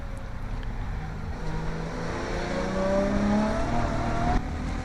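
Classic Thunder race cars at Oulton Park roar past together into Old Hall corner, a steady engine drone rising in pitch and swelling as they approach, heard from trackside amid wind noise.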